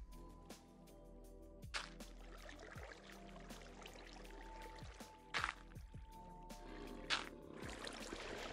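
Water flowing in Minecraft, a quiet pouring, trickling wash with a few brief louder splashy bursts, faint and steady throughout, with no talking.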